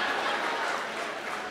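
Audience applause at a Hindi comedy poetry show: a short, dense burst of clapping, fairly close and steady, lasting about a second and a half.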